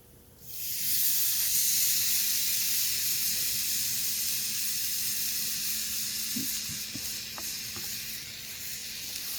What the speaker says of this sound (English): I don't know if you hear that or not, but it is sizzling.